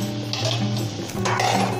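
Vegetables with half an onion and a piece of pepper are stirred in a pot for Dominican chicken soup, with close scraping and clinking of a utensil against the pot over a low simmering sizzle.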